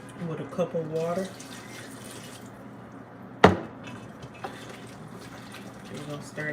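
A cup of water splashes into a pot of Jamaican curry fish with carrots, a short sharp pour standing out midway, preceded by talking and followed by quiet kitchen background.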